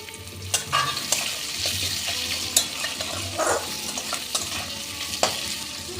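Two large cut onions fry in hot oil in a pan for meat khichuri, a steady close sizzle with occasional scraping stirs and clinks, no voices.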